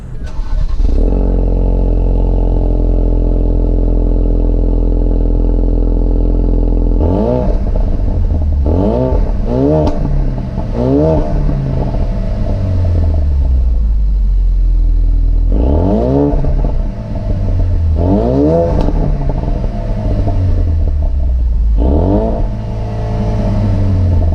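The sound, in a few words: Ford Focus RS engine exhaust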